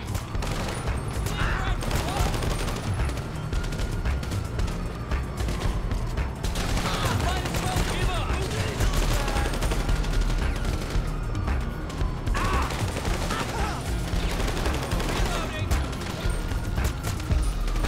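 Gunfire in the online video game GTA Online rattles continuously in dense bursts and crashes, loud and unbroken, with voices talking over the shooting.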